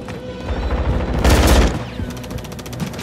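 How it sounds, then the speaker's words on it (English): Call of Duty gunfire bursts out loud and close, a rapid machine-gun volley peaking mid-clip, followed by a quicker rattle of repeated shots, with no talking. "Taking fire!"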